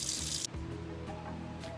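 Tap water running into a sink to rinse cleaned cow foot meat before cooking, a steady hiss that cuts off abruptly after a moment, leaving quieter kitchen sounds.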